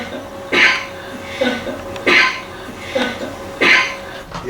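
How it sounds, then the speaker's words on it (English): Coughs inside an old Victorian house in St. Augustine sound at a steady pace, five sharp, fairly loud barks spaced about a second and a half apart over low background noise. "You guys hear the coughing?"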